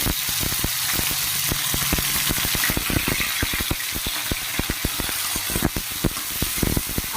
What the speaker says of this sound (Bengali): আমি দিয়ে দেব চিংড়ি মাছগুলোও দিয়ে দেব একসঙ্গে সব ভাজা হয়ে যাবে